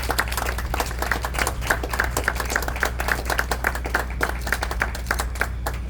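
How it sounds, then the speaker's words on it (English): An audience claps at the NORWESCAP grand opening, a dense, sustained round of applause with many overlapping hand claps at an even level throughout. "Round of applause for NORWESCAP."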